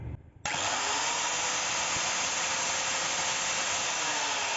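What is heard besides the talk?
grinding machine sharpening a garden cart wheel part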